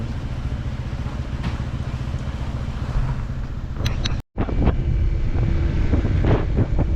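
Strong wind at a beachfront in Bucana roars and buffets the microphone in a steady, heavy rumble, briefly cutting out for a split second before gusting on.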